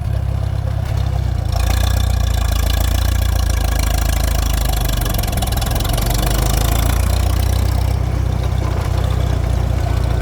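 A Farmall M tractor engine pulls away in road gear, its loud, steady low rumble rising and thickening as the tractor takes off, with no voices.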